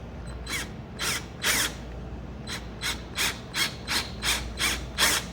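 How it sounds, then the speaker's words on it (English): A series of short rasping mechanical bursts, roughly ten in quick succession, each a brief grinding whir of a power drill turning a bolt extractor in a broken bolt, close and fairly loud. "if I can just get my drill in here and get it straight onto this bit"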